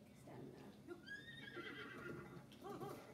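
A horse in the Star Stable video game gives a clear rising and falling whinny near the middle, followed by snorts and soft hoof sounds, with a person talking around it.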